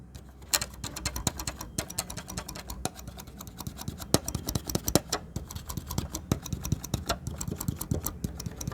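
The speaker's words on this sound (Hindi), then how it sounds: "इसमें से जैसे कुछ लोहे के टकराने की आवाज़ आ रही है ना इस कीज़ से" Worn white keys of a Casio CTK 2550 keyboard being played, giving a steady run of dense metallic clicks and clinks, close and fairly loud, with no talking.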